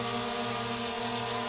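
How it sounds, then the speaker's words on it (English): DJI Mini 4 drone in flight, its propellers giving a steady, even buzzing hum with a tonal whine throughout, close and continuous, with no talking. "This is the sound of the Mini 4."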